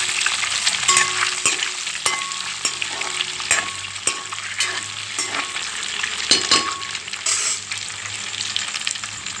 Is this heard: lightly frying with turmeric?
yes